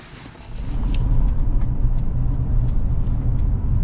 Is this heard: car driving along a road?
yes